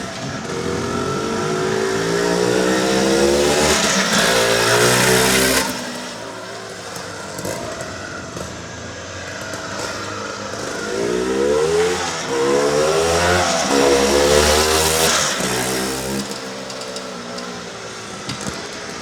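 A mint-condition 1973 Penton 175 Jackpiner two-stroke motorcycle revs and rides past nearby, its engine note rising and falling in repeated surges, with a loud, close pass followed by a quieter dip and another strong build.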